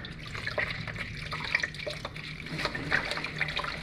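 Lemongrass stalks infested with aphids are rinsed under a running tap, giving a steady broadband stream of flowing water with small splashes and drips, close and moderately quiet, with no talking.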